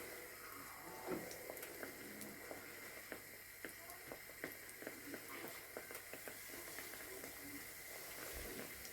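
Steady sizzling and crackling of doughnut dough frying in hot oil, with faint scattered pops throughout, close by and continuous.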